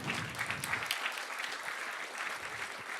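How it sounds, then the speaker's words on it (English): An awards ceremony audience applauds steadily for a few seconds, a dense patter of clapping heard from mid-distance with no voices over it. "Some applause."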